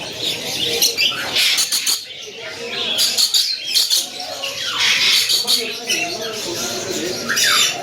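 Parrots at a bird market in Karachi give repeated loud, harsh squawks and chirps in rapid bursts, with people's voices mixed into the busy background.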